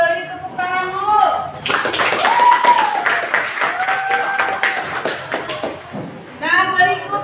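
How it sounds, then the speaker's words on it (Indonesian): Classroom applause for a student group's presentation, a burst of many hands clapping for several seconds, framed by a teacher talking before and after. "kita beri tepuk tangan dulu"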